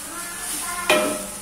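Stir-fried cabbage sprouts seasoned with salt and ground pepper are stirred in a pan, a soft sizzle under one sharp scrape of the utensil near the end, close and brief.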